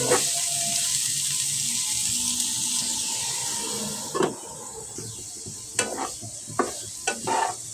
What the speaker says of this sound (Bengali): আজকে সকালের জন্য আমি কই আর বেগুন ভাজি করে নেব এখন নেড়ে চেড়ে ঢেকে সিদ্ধ করে নেব